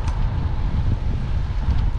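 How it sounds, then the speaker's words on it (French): Wind gusts across a high mountain road on Mont Ventoux, a steady low roar buffeting the microphone, loud and continuous with no talking. "Oh, il y a du vent."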